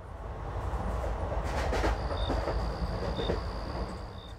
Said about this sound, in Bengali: ট্রেন এসে থামলো ঢালা স্টেশনে।